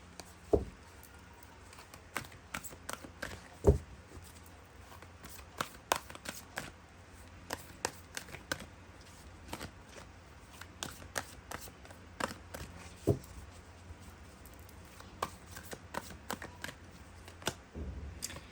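A tarot deck is shuffled by hand, with soft papery riffles and taps that come in uneven bursts for a long stretch. The room is quiet and no one speaks.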